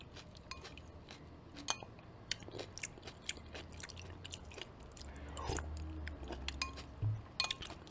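Close, quiet mouth sounds of someone eating tomato soup with onions and toast: soft wet chewing and bites with occasional crunchy crackles and a light clink, scattered irregularly.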